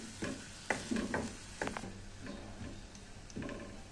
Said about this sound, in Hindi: लहसुन को फ्राई कर लेंगे 1-2 मिनट